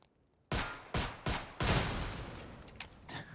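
Bursts of gunfire in the video game PUBG aimed at a gas can: a sharp opening volley, then several rapid shots and a longer rattling burst, followed by scattered fainter shots trailing off.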